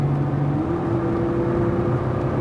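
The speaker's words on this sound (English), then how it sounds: "Now you keep accelerating all the way down to the yellow cones on my side here, Larry." A car accelerating hard on a race track during a track day, its engine holding a steady loud drone with a rising tone, close and continuous with no talk.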